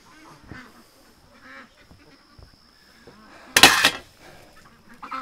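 A loud burst of duck quacking erupts near the middle, surrounded by quieter scattered bird calls and a faint steady whine in the background.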